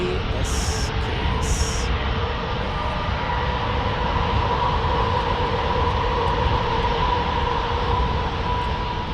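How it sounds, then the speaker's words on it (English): A Delta Airlines Boeing 737-800 from Seattle lands at San Diego, giving a loud, steady broadband jet roar with a sustained engine whine, heard close and continuous throughout. "Delta Airlines from Seattle on a 737-800 landing there."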